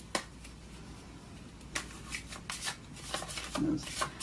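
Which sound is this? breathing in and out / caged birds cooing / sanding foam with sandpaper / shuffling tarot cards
shuffling tarot cards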